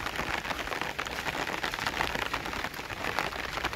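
Steady rain falls outdoors, a dense, continuous hiss of drops on surfaces that stays loud and even throughout with no voices.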